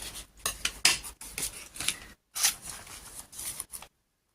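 Scissors snipping paper for a faux-leather notepad craft project, a series of short crisp cuts in irregular bursts, close and fairly quiet, ending in silence.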